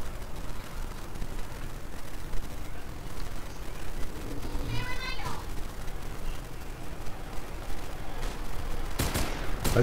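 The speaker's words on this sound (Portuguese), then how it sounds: "Eita, quanto tiro." Rapid bursts of video game gunfire in a Roblox Brazilian Army war game crackle through a busy, noisy mix, with chatter and voices underneath throughout.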